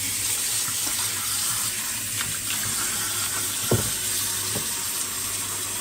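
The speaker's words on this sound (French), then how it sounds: "On met de l'eau." Tap water running steadily into a pot holding cabbage, a loud continuous hiss and splash close by with a couple of brief clunks partway through.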